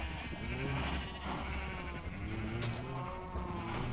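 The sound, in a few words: sheep bleating in a Minecraft-style video game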